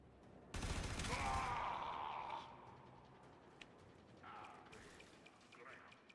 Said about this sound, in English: Somebody's over here throwing grenades